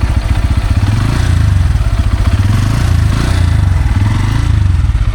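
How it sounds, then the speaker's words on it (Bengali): Bajaj Pulsar N160 motorcycle engine running close by, a loud, steady, evenly pulsing mid-pitched exhaust throb that holds level throughout. "বাইকের সাউন্ড সিস্টেমটা কিন্তু খুবই ভালো লাগছে"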